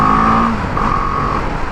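A BMW GS310 motorcycle accelerates on an Indian road, a loud close engine note rising and then dropping into a rougher rumble.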